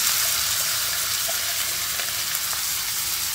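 Minced keema frying in oil in a pan, a steady close broadband sizzle with faint clicks of stirring throughout, no voices.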